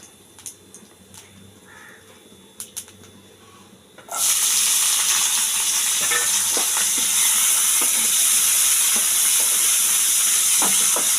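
Onion dropped into hot mustard oil left from frying boal fish, with black cumin already tempering, bursts into a loud, steady sizzle after a quiet start of faint clinks, holding close and strong to the end.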